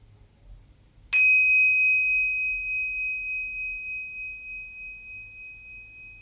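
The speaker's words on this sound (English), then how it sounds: "when you hear the bell, we'll finish" A single bell is struck once to close a mindfulness exercise, a clear bright ding that rings out and slowly fades over several seconds in an otherwise quiet room.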